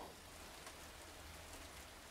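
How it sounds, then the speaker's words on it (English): Rain in the Silent Hill 2 Remake video game, a dense, steady hiss of falling drops on surfaces, even and continuous with no voices over it. "The rain."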